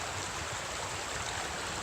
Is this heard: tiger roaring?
no